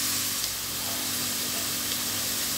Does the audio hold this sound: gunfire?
no